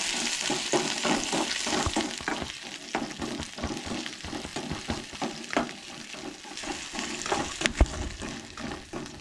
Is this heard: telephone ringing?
no